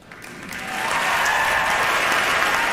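A large crowd's applause swells up after a quiet start and holds loud and steady, clapping rushing as if from a packed arena audience in a radio advertisement.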